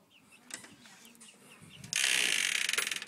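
A chicken coop vent door works on a pulley and string, giving a few soft creaks and ratcheting clicks, then a louder burst of rattling, scraping mechanism noise toward the end.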